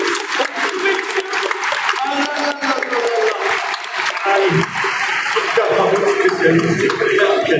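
Audience applause and crowd noise fill a Yu-Gi-Oh! TCG conference hall at Japan Expo 2025, a steady loud wash of many hands clapping with some voices mixed in throughout.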